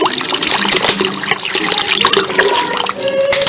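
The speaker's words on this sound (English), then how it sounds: "Now I'm going to pour in the water." Water being poured into a cooking mixture with a steady trickling, splashing pour that runs continuously and fairly loud throughout, with no talking.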